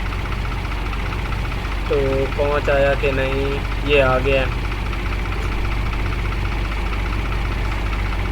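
A small tractor engine idles and rumbles steadily in a Farming Simulator corn field, a constant low mechanical drone, while someone talks briefly over it.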